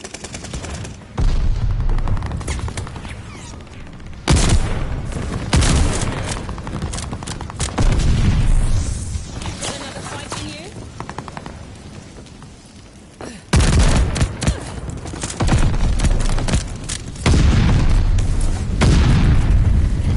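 Shotgun blasts in Call of Duty: Vanguard, loud booming shots in repeated bursts with short gaps and lingering rumble, dense gunfire clusters dominating throughout with no talk.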